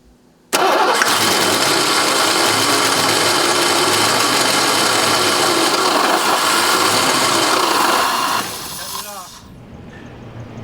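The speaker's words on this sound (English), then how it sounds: "As you can see, we got it to fire on some starter fluid, which is an indication that the ignition system is fine." A Foxbody Ford Mustang engine fires on starter fluid, catching abruptly after a brief pause and running with a loud, steady roar for about eight seconds before it drops off and fades to a low rumble.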